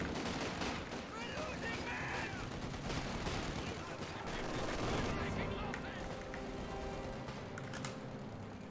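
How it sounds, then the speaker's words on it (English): Machine gun fire from a .50 cal and a G42 in a Black Ops 7 match: rapid bursts of gunfire crackle under commentary and keyboard clatter, fairly faint and mixed into the game noise. "battle of the MGs in the middle of the map. 50 cal versus G42."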